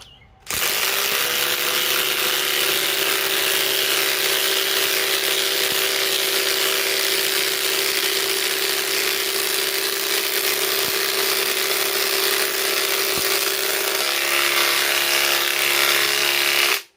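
A Ridgid R872081B subcompact impact wrench and a DeWalt Atomic DCF921 with a 5 Ah battery drive 6-inch power lags. A loud, close, continuous hammering whine holds steady for about fifteen seconds before cutting off.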